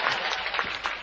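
An audience claps at a folk Dayro gathering in Borvav, Gir: a short burst of dense, fairly close clapping, brief and steady.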